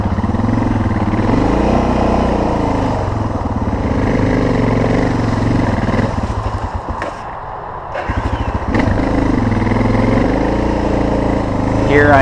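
A Suzuki DR650 dual-sport motorcycle revs hard while stuck in mud on an icy, muddy trail, its loud engine surging up and down, dipping briefly before climbing again, with the rear tire failing to grip.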